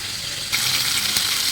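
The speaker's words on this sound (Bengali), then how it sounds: "আমি এখন মাছগুলো সব ভেজে নেব।" Pieces of bhetki fish fry in hot oil with a steady, close hiss, swelling into a louder, brighter sizzle midway and holding without speech.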